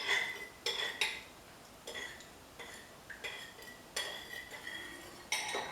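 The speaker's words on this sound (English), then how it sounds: "You want to mix it real well." Coleslaw dressing with vinegar being whisked in a bowl: a series of sharp utensil clinks and taps against the dish, irregular and close, with no talking.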